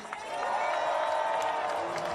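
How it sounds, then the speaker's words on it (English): A May Day rally crowd in New York clapping and cheering for a speaker, a broad, steady roar of applause with scattered whoops, rising quickly at the start and holding loud to the end. "Can we clap it up one more time for William?"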